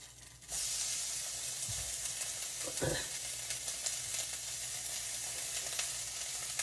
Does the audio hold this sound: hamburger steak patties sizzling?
yes